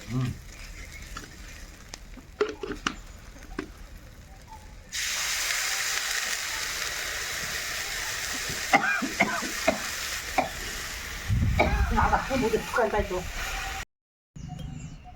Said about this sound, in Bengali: মাছের ঝোল সুন্দর ফুটে গেছে